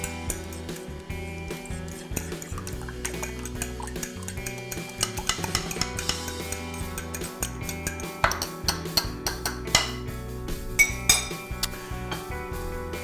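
Chicken cordon bleu ingredients seasoned with salt being mixed in a bowl at home, a busy run of clinking, tapping and scraping utensil strokes against the bowl, close and continuous over about thirteen seconds.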